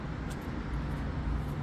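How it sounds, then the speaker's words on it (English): Cars pass on a busy main road, a constant close rumble of tyres and engines filling the short stretch with steady traffic noise. "Lots of cars coming here."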